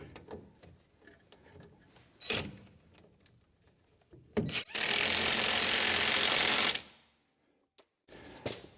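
Air impact wrench running a nut down on the steering rack of a 1970 Jaguar E-type 4.2 Series 2, one loud sustained burst of about two seconds amid nearby clanks and tool handling.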